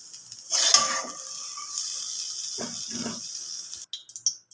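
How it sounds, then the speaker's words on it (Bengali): Fried eggplant is lifted out of a pan: a metal spatula scrapes and clinks against the pan over a soft background sizzle, then a few short taps before it goes quiet. "ভাজা হয়ে গেছে বেগুনগুলো, এবার তুলে নেবো।"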